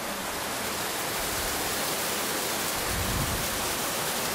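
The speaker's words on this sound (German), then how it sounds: "das ist der Wasserfall" A waterfall inside the Kobelwald crystal cave gives off a steady, dense broadband rush that stays even and close for the whole stretch, with a slight low surge near the end and no voices.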